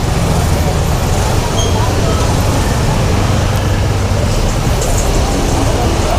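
Dense city traffic in Aizawl, with parked cars crowding the roads and jammed vehicles, makes a constant loud roar of engines and road noise with no break throughout.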